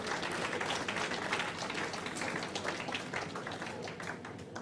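An audience claps at an anniversary event with an address on governance, a steady, moderately distant wash of many hands that runs the whole time and eases slightly toward the end.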